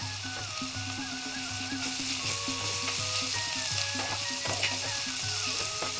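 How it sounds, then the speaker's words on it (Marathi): Onions, both fresh and dried, frying in oil in a pan over a medium gas flame, giving a steady close sizzle with stirring underneath. A low tonal hum runs through it and nobody speaks. "मी मीडियम गॅसवरती हे परतून घेते।"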